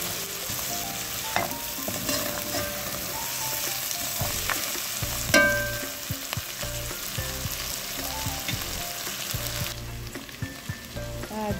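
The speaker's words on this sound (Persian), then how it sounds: "این خودی که تفت بدیم" Continuous sizzling of spices such as black pepper and cinnamon frying in a hot pan for fesenjan stew, with occasional clinks and scrapes of stirring, close and steady throughout.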